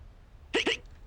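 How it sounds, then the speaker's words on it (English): A cartoon character gives two quick, sharp hiccups in close succession, close and clear against a faint quiet background. "I've got the hiccups."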